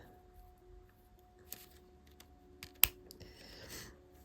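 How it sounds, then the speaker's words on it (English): Small scissors snip goldwork metal thread, a few faint, tiny close clicks and one crisper cut, with soft handling rustle and a low background hum. "Get my little pair of scissors here, and I'm going to cut."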